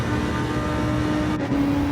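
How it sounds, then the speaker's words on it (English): Lamborghini Huracan GT3 race car engine at Monza, a steady loud drone with a sustained tonal line that briefly dips then rises again as the revs shift. "Beautiful sound of the Lamborghini Huracan engine."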